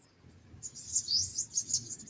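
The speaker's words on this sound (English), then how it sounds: "I was hearing the birds tweeting at the same time in the background" Faint birds tweeting in the background, a quick series of high chirps over a quiet low hum.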